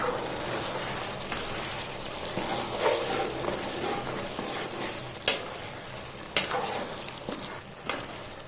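Chillies and peeled tomatoes frying for chicken karahi, a steady, moderately loud sizzle broken by occasional scraping stirs and a few sharp clanks of a utensil on the pan.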